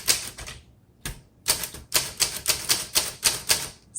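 Keys struck on a 1941 Corona Sterling vintage typewriter: loud, sharp mechanical clacks in a steady, fairly even rhythm after a brief pause, heard close up with no talking.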